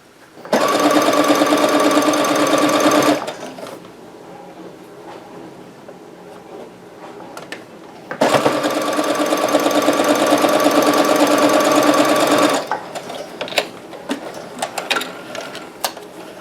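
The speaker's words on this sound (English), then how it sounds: "go ahead and sew these together so I can attach the last 2 rows" A sewing machine stitches quilt block pieces together for a star sampler block in two bursts of rapid, steady mechanical chatter, each lasting a few seconds and separated by a quiet gap, followed by light handling clicks.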